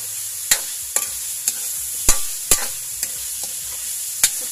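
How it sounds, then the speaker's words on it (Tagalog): Chicken sautéing in a pan with pork and beans to follow, a steady sizzle broken by sharp scraping stirs of a utensil at irregular intervals, close and moderately loud, no voices. "Sotay muna natin yung ating chicken."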